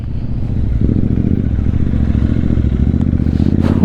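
A Royal Enfield Interceptor 650 motorcycle rides off-road, its twin engine thrumming loudly and close under continuous clattering and scraping over rough ground, with a sharper rattle near the end.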